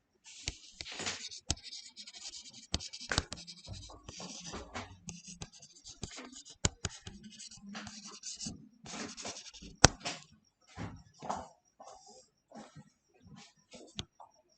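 Marker or chalk writes a heading on a board in quick scratchy strokes and taps, irregular bursts close up that thin into sparser, separate marks toward the end, with no talking.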